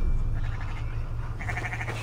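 A sheep in a video game bleats with a wavering, quavering call over a low droning background, the bleat rising clearer and louder toward the end, no speech.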